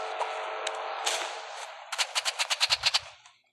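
Video game gunfire: a few scattered shots, then a rapid burst of about nine loud, evenly spaced automatic rounds that fades quickly, with no talking.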